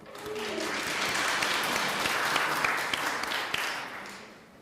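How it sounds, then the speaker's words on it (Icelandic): An audience applauds a trumpet soloist after a Christmas piece by the Iceland Symphony Orchestra at a hospital, the clapping swelling, holding strong, then tapering off near the end. "Við skilum gefa honum gott klapp."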